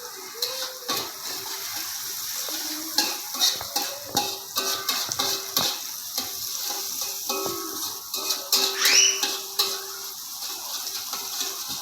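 Shallots and garlic sauté in a pan, giving a steady low crackle and sizzle with intermittent stirring scrapes and clatter throughout, close and moderately loud with no speech.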